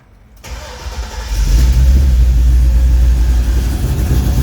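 A 1986 GMC K20 truck's LS-swapped engine cranks and catches, then settles into a loud, steady, rumbling idle up close.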